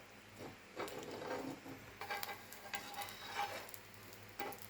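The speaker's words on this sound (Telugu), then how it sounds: "బ్రెడ్ టోస్ట్ చేస్తున్నాను ఫ్రెండ్స్ చూడండి మా అబ్బాయి చేస్తున్నాను నెయ్యి వేసి చేస్తున్నాను" Bread toasting in ghee in a pan gives a soft, quiet sizzle with light scraping and stirring taps, close and faint, with no talking.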